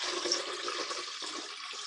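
Water streams steadily into a container while horchata is being made in a kitchen, a soft continuous pouring splash at close range.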